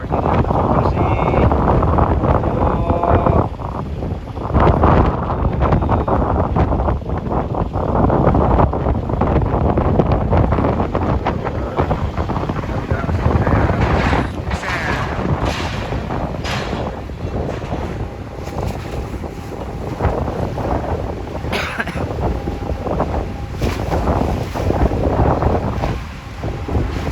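Strong wind roaring and buffeting at Merak harbour with waves churning beneath, a loud, unbroken wash of noise throughout and no clear voices.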